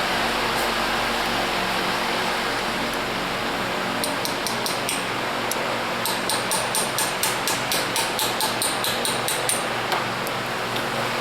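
Sharp metallic taps from a small chisel driven against a keyway on a forklift DC generator's armature shaft, working a half-moon key; a quiet spell, then about twenty evenly spaced strikes in bursts over a steady noisy background.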